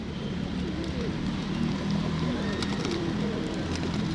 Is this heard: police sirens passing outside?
no